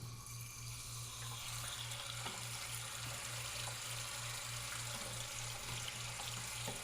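Water drains from a toilet into a bucket, a soft continuous trickle and splash with a steady low pulsing hum beneath, faint and unbroken with no talk.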